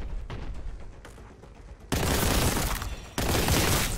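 Video game gunfire: two loud, dense blasts of rapid shooting break in abruptly after a quieter stretch of background noise, close and sustained with a brief gap between them, no talk.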